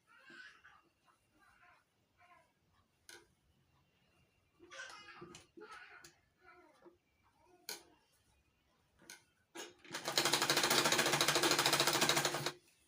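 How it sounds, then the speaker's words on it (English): A sewing machine running a short burst of back stitching on a wrap peplum blouse, a steady dense mechanical whir lasting about three seconds near the end, after quieter scattered handling taps and rustles. "So I'm just going to do the back stitching now."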